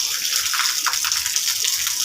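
Rainwater pours down steadily from above around a house, a continuous bright splashing wash with no pauses and little else beneath it.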